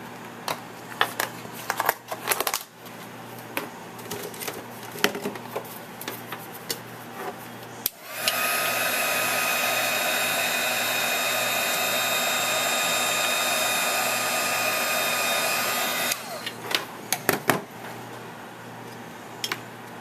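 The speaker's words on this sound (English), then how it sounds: "I'm going to emboss that as well with clear embossing powder" A heat tool blows a steady whirring hiss for several seconds while melting clear embossing powder on a card, framed by soft tapping and handling noises before and after.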